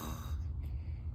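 A person imitates a mom's snoring with a short, breathy snort-like inhale and a low rumble, close and alone.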